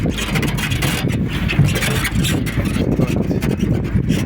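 A steady, loud low tractor engine rumble drones continuously on a beach, mixed with gusty wind noise buffeting the microphone.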